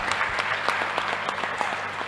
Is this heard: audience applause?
yes